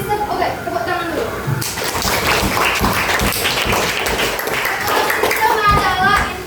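A class of schoolchildren claps hands together at a teacher's prompt during an Indonesian science lesson on ecosystems, a dense, steady burst of many small hands lasting several seconds, with a voice heard near the start.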